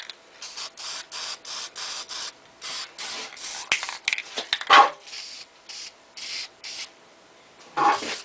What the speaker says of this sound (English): Now we're going to spray a little bit of paint on it.